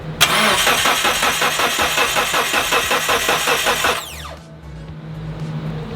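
A Mitsubishi Evo 8, idle for five years, cranks and fires up with a loud mechanical whine and rhythmic pulsing for about four seconds, then settles into a rougher, quieter idle, close and without talk.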